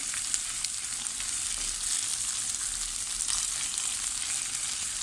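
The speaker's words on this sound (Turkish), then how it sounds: "Salçalarımızı da soteliyoruz." Tomato and pepper paste sautéed in hot oil for a fava bean kavurma, a constant close sizzle and crackle throughout with no talking.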